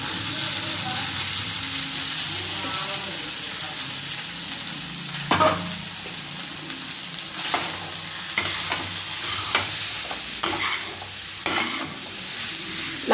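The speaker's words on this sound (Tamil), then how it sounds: "இப்போ இந்த டைமில் நம்ம அவிச்சு வச்சுருக்கிற காயை சேர்த்துக்கணும்" Boiled vegetables sautéed with ground masala in a hot pan, a loud steady sizzle running throughout with scattered spoon scrapes in the second half.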